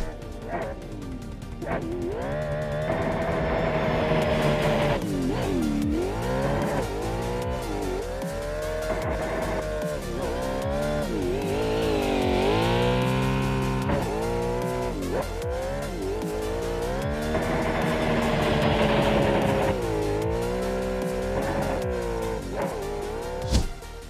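A Nissan Silvia S14 with a 2JZ engine rated at 994 horsepower drifts in Assetto Corsa, engine revving hard and swelling with steady tire squeal through long slides, loud and continuous, with no voices.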